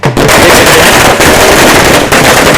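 Firecrackers going off in rapid, loud, crackling bursts at a political victory road march celebration, a near, almost continuous string of sharp pops with brief gaps.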